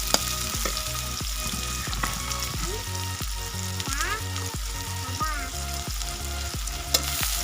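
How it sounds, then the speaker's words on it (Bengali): Onions frying in soybean oil until brown for biryani, a dense close sizzle under steady rhythmic stirring and spatula scrapes, with a low hum and occasional clanks, and no talking. "পেঁয়াজগুলো এভাবে বাদামি রং করে বেরেস্তা করে নেব।"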